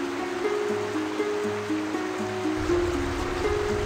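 Sudden heavy rain in a cartoon tropical rainforest, a steady broadband wash of water noise under a looping melodic background tune.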